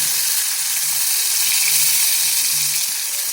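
Garlic paste sizzling in hot oil with cumin and tomato while making vada pav, a loud steady frying hiss close up with faint stirring underneath.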